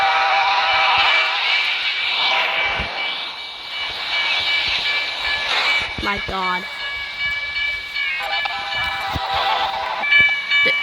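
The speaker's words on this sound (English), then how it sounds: "This thing is stuck on a track and then virtually get hit by a train." Video game train ploughing into cars stuck on a track, a dense hissing, rumbling collision din with a steam-whistle-like tone running throughout, loud and continuous, with a man's brief exclamation over it.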